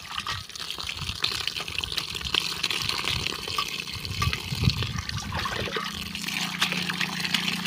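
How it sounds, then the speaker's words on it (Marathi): Dill (shepu) leaves being washed in water, with continuous splashing, gushing and trickling close by as the leaves are swished around. "आता ही स्वच्छ धुवून घेऊया।"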